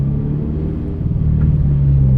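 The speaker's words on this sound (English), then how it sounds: "You gotta rev it more. I'll do it on the pass right here." A 2022 sports car with an aftermarket exhaust rumbles at a low, throaty idle that swells louder toward the end as the revs begin to build, heard close and without speech.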